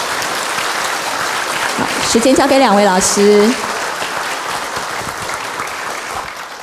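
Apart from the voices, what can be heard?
audience applause welcoming speakers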